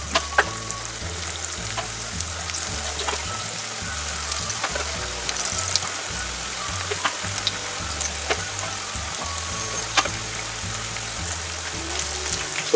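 Chicken pakoda pieces fry in hot oil, giving a loud, continuous bubbling sizzle with occasional crackles and pops, heard up close without talk.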